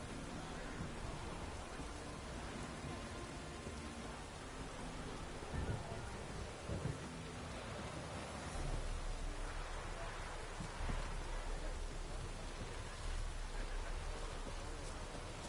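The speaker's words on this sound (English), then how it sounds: "Rain again." Steady rain hisses throughout at a constant level, a dense wash of falling drops with a few faint low thumps underneath.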